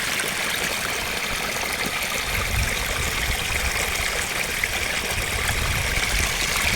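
Irrigation water runs through a field channel in Mandvi, a steady, moderately quiet rushing trickle that continues unbroken with no voices.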